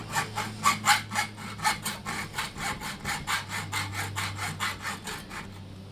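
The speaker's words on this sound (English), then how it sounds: "looks like I'm going to have to revert to the Mark I power hacksaw" A power hacksaw cuts a copper pot with a steady back-and-forth rasping rhythm, about three strokes per second, close and moderately loud throughout.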